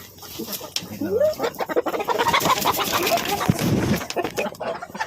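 Australorp and Rhode Island Red chickens cluck and call close by, with the sounds repeating in an uneven run over some background noise, while a person speaks faintly in places.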